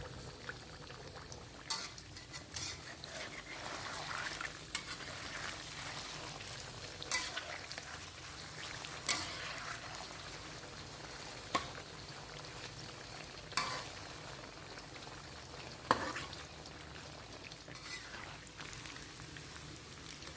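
Tofu deep-frying in a pan of oil, a steady faint bubbling sizzle with scattered louder crackles and pops every couple of seconds, no talking.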